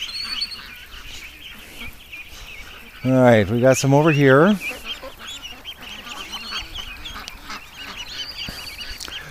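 A flock of farm-raised ducks of mixed ages at a lake in the early morning, with a loud burst of stacked harmonic honking calls standing out over steady outdoor background noise, while someone speaks nearby.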